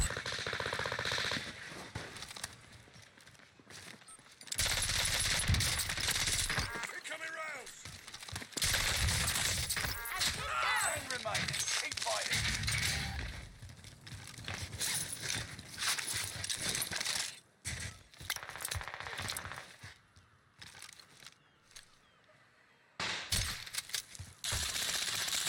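Gunfire from a shotgun in the Fortnite video game, loud repeated blasts in bursts across a busy stretch of game action with a few quieter gaps.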